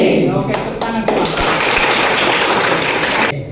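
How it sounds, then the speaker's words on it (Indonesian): A university teaching session audience claps hands together after an ice-breaking exercise, producing a dense, loud burst of applause that starts abruptly and ends cleanly, with voices mixed in. "Oke, tepuk tangan semua"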